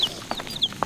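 New baby chicks in a coop give a quick series of high, thin peeps and chirps, several short calls close by within under a second.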